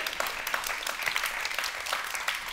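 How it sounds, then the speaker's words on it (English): An audience claps at a disability rights talk, a dense run of clapping without talk. "let's clap."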